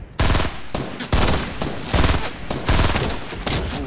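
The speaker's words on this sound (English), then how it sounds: "Oh shit, someone else shot me." Gunfire in Fortnite aimed at the player, loud rapid automatic bursts rattling in several close, sustained volleys with brief gaps between them.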